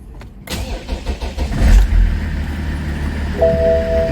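A BMW E60 cranks briefly, then its engine catches and starts, settling into a loud, steady idle close by, with a short electronic chime near the end.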